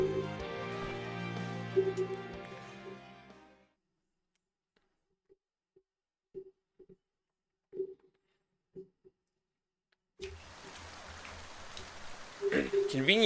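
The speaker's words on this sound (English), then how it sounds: "Convenient rain." Rain falling in a video game, a steady patter of raindrops that comes in after a stretch of soft music and near silence, with a few isolated ticks between.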